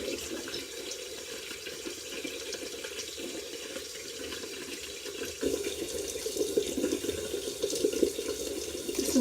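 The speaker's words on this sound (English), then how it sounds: "I should have started running the water beforehand" Hot water running steadily from an old bathroom tap, a constant close rush that grows slightly louder partway through, with no voices.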